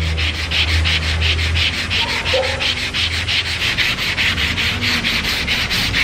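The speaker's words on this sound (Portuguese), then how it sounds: "Eu tô lixando a massa poliéster" Rhythmic sanding strokes rasp back and forth over polyester body filler on a car body, loud and close, in a steady repeating scrub with no talking.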